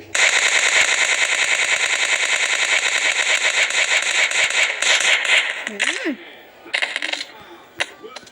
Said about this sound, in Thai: เนี่ยมันยิงขาฉันแล้วปืนก็ลั่น